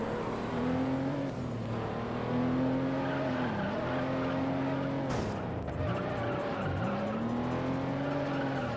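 A Toyota Supra race car in the video game Juiced holds a steady engine drone, tires squealing and skidding through corners, with the pitch dipping and rising as the rear-wheel-drive car slides and recovers, alone without talk.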